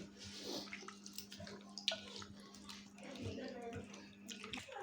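Chicken pieces soaked in vinegar and salt are rinsed in water, soft sloshing and splashing of water with hand movements, fairly quiet, and someone talks over it.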